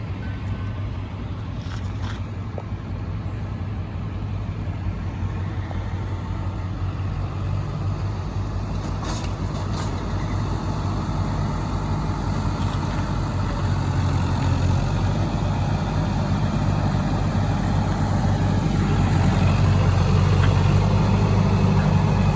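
Heavy diesel engines of a skid steer and a large tractor hauling round bales rumble continuously at a low, steady drone, nearby and fairly loud, without speech.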